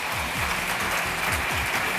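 Audience applause welcoming a speaker at a pleading competition, a brief, dense patter of many hands clapping at steady volume.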